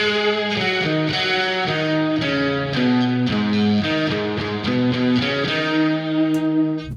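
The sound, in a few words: layered guitar solo, three guitars in octaves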